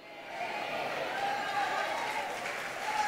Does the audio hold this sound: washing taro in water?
no